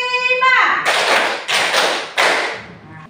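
A classroom of students performs the tepuk 5 clap pattern, sounding as a few loud, sharp group claps and thuds spaced apart, after a brief voice at the start.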